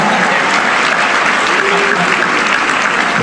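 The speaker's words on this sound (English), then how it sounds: "How about an applause right" School district general assembly audience applauding, a dense, loud, steady wash of clapping from a large crowd throughout.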